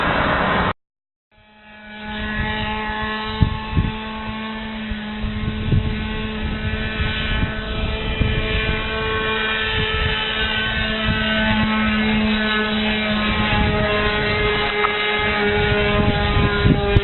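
A Sig Kadet Senior radio-controlled float plane drones steadily overhead at Eagle Lake, its small engine holding a buzzing, harmonic-rich tone after a brief dropout at the start, loud and continuous.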